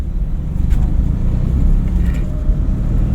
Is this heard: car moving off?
yes